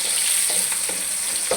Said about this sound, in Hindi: अब मैंने जो लहसुन काट के रखा वो डाल रहा हूँ। एक दो दफ़ा चम्मच हिला देते हैं इसको इसके अंदर